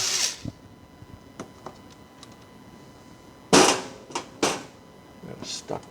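Bolts being worked loose from the heat shields of a 1986 Porsche 944 Turbo during restoration: scattered sharp metallic clicks and ratcheting bursts, a few louder impacts, close and fairly quiet against a low background.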